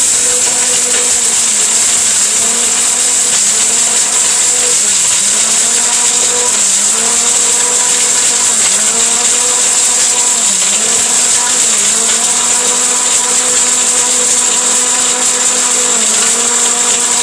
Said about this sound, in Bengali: সবচেয়ে শক্তিশালী ব্লেন্ডার,